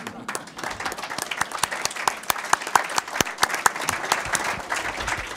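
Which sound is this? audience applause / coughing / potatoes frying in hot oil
audience applause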